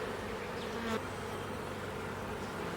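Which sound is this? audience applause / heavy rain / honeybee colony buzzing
honeybee colony buzzing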